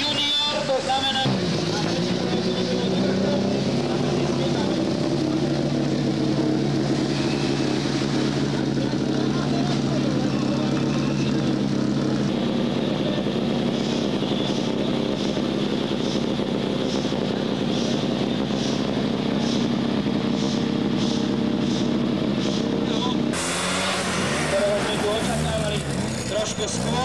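A BMW 3 series race car in the class F up to 2 litres sits at the start of the Pezinská Baba hill climb, its engine droning and revving loudly under commentator talk before a sharp change near the end.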